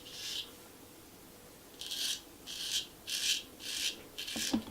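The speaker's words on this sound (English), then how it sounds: "then we start going and shaving against the grain" Straight razor shaving a foam-lathered face against the grain, heard as five close, separate raspy scraping strokes of about half a second each, with short pauses between them.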